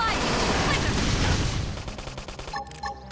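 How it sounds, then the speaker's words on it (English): Gunfire in the video game Xenoblade Chronicles X: a dense, loud burst of rapid shots and blasts that fades out, leaving scattered electronic effects. "Topple them with gunfire."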